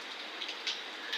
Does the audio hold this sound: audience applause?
no